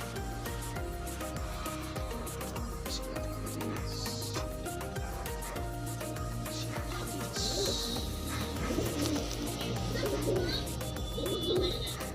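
Pigeons cooing in a loft or coop, soft repeated low coos continuing throughout amid a busy background of other bird calls and clatter, moderately distant and steady.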